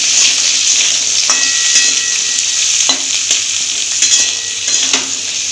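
Jackfruit seeds frying loudly in hot oil with garlic, onion and dried chillies, a bright continuous sizzle with intermittent clicks and scrapes of a utensil stirring the pan, close and steady.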